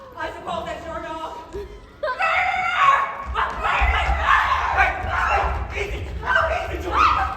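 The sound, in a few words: dog barking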